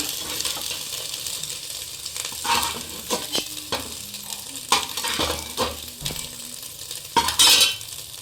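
A fried egg being stirred and scooped from a hot pan, with a soft ongoing sizzle under scattered scraping and clinking of a utensil against the metal.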